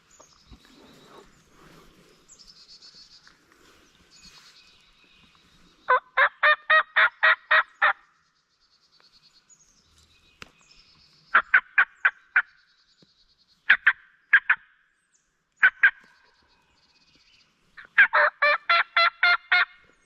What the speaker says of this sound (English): He either double gobbled or that's two turkeys.